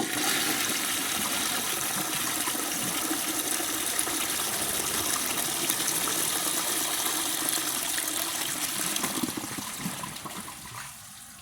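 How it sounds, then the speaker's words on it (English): A 1945 Kohler Trent toilet with a low tank flushes in a strong, steady rush of water that carries on for several seconds before easing off as the bowl drains and refills. "I have it on a low tank like it would be originally, so I'm going to show you a flush like this."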